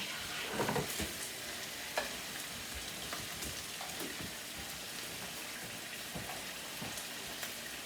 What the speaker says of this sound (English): let's turn the burgers over